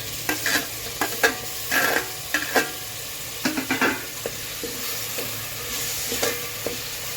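Tomatoes fry with bay leaf, cinnamon and spices in a pan for chicken biryani, a steady low sizzle broken by repeated sharp scraping and stirring strokes.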